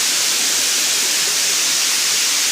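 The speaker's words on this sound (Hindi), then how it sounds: "ये गुफाओं के झरने हैं, और यह झरना वर्ष भर बहता ही रहता है।" A year-round waterfall near hillside caves at Gogunda, Udaipur, flows gently after a dry day, making a constant bright hiss of falling water that holds steady and close with no other sounds.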